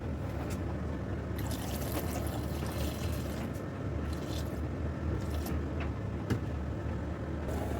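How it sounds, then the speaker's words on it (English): Water pours steadily into a blender jar for several seconds during food preparation, a continuous splashing, trickling wash with no talking. "So I just added water."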